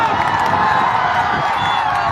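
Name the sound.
crowd at an election rally cheering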